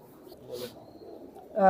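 Pigeons in a high-flying pigeon loft coo softly amid low background murmur, with a louder burst at the end; a voice seems faintly present.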